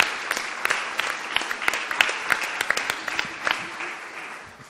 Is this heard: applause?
yes